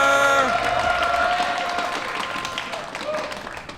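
A live crowd at a StarCraft 2 tournament semifinal applauds and cheers, a broad clapping swell that fades gradually beneath a commentator's voice.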